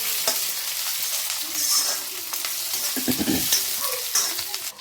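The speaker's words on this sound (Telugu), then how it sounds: "దీంట్లోకి మనం కట్ చేసుకున్న వంకాయ ముక్కల్ని వేసుకోవాలి. వేసుకొని ఇది మంచిగా ఫ్రై చేసుకోవాలి." Cut eggplant pieces frying in oil in a pan, a strong continuous sizzle with a spatula stirring and scraping through the pieces now and then.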